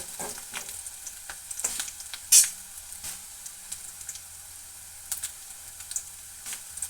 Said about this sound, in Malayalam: എണ്ണയിൽ മൂപ്പിച്ചെടുക്കുന്നുണ്ട് എന്നിട്ട് കറിവേപ്പില ഇട്ടുകൊണ്ട് മുളക് പൊടിയിട്ട് നമ്മളതിൽ ഇളക്കി യോജിപ്പിക്കും